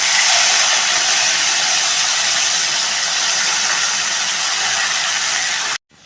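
Milk poured into a hot curry-leaf tempering in a pan gives a loud, steady rushing sizzle and hiss that holds, then cuts off abruptly just before the end.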